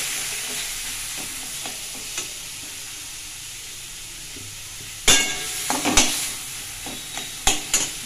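Chhana, or cottage cheese, fries with a soft steady sizzle in a pan. After a quiet stretch, a burst of loud scraping and clanking strokes begins as it is stirred.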